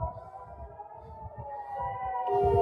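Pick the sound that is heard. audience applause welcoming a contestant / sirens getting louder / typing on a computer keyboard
sirens getting louder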